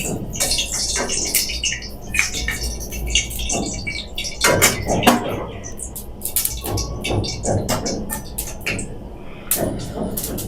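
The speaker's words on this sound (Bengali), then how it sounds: "জল আছে আমার ইয়ের মধ্যে তার জন্য শব্দ হইতেছে" Water heating in a home cooking pan with a bay leaf added gives an uneven hiss and bubbling, broken by sharp clatters and knocks of kitchen utensils at close range.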